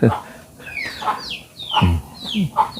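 A hen clucks repeatedly nearby while small chicks peep in between, the calls coming in uneven bursts with brief pauses.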